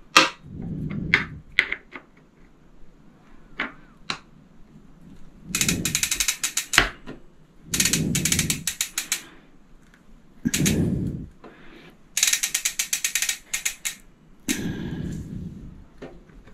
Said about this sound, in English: now I'm going to tighten it with the 8mm hex wrench